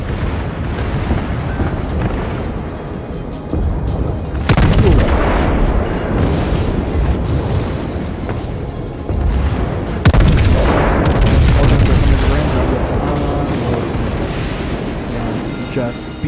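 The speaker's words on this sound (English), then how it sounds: "cannons that are going to start shooting as we get into range" Warship cannons in World of Warships fire in heavy booming salvos, two big blasts standing out among a dense, continuous rumble of gunfire and explosions, loud and close, with no talking.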